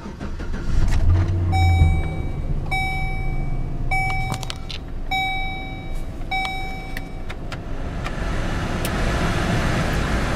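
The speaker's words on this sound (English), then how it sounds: "give you a little demonstration of the vehicle turning on." A 2006 Chevrolet Silverado pickup truck with roof rack is started and left running, giving a loud, close engine rumble that holds steady, with brief high electronic chimes sounding repeatedly over it.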